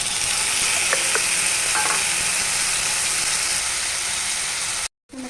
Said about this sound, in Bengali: আর টমেটো বাটা দিয়ে দিলাম